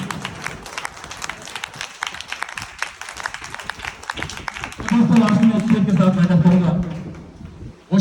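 Audience clapping at an open seminar on a road in Akhnoor, a fast crowded patter of hands under a man's raised, amplified voice that keeps talking throughout.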